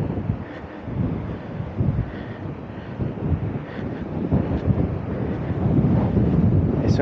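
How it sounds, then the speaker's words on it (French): Strong wind at a lighthouse on the wild Atlantic coast, a constant low roar of gusts buffeting the microphone, swelling louder toward the end, with surf blended beneath it. "Bon, c'est un peu venteux."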